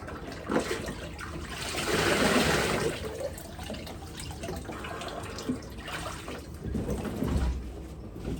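Water sloshes, splashes and streams off a body rising out of a cold plunge tub, with loud surges and dripping trickles close by.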